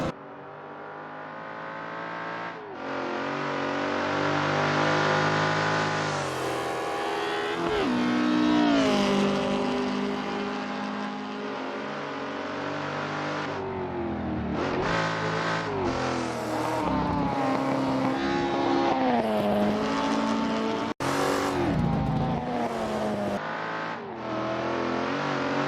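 A thundering V8 saloon race car roars in Assetto Corsa during a British Saloon Car Championship race, its engine loud and close, revving up through the gears, dipping and climbing again, with no voices on top.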